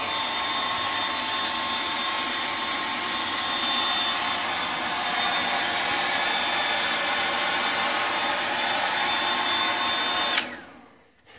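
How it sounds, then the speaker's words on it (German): A hair dryer blows in a steady, loud whine while a Bolonka dog is dried, holding one even pitch for about ten seconds before being switched off and winding down. "dann richtet nicht gleich den Föhn auf sie"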